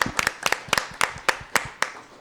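A small group claps at a school district governing board meeting, about eight distinct, evenly spaced handclaps, close and crisp, with quiet gaps between them and no talk.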